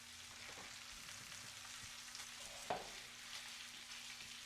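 Homemade smoked bacon fries in a pan over moderate heat, a faint, steady, crackling sizzle with one brief louder pop and no talking.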